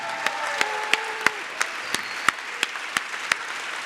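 Sparse, separate claps at a high-school pleading contest award ceremony, falling at a slow, fairly regular pace of about three per second, with a faint tone drifting underneath.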